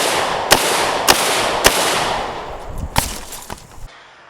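Russian Tula SKS rifle firing outdoors, five sharp shots: three evenly spaced cracks, then a brief pause and two more, each loud and close with short echoing tails.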